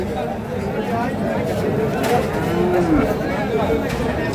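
A large crossbred bull at the Khochabari cattle market in Thakurgaon gives one drawn-out moo midway, heard over a steady hum of market crowd noise and background chatter.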